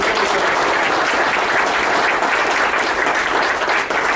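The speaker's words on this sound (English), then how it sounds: "Let's give him one more round of applause." A room full of attendees at a landlord meeting applauds, a loud, dense and steady round of clapping that fills the whole stretch with no voices over it.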